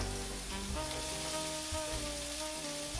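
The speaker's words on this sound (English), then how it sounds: "And then I'm going to throw in my zucchini." Chopped zucchini and shallots frying in an omelet pan, a steady close sizzle with continuous crackle and no talking.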